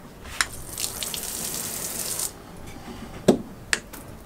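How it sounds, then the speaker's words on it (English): Fresh water splashes from the pull-out cockpit shower with adjustable pressure on an Elan Impression 50 sailing yacht, a steady running spray for about two seconds followed by quieter gaps and a couple of sharp knocks. "The cockpit shower is located here. You can pull this out and adjust the pressure here."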